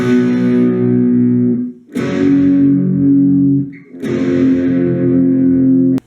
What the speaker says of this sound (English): The rhythm guitar is actually just picking 4 chords once each